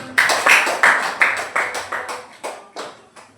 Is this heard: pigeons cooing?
no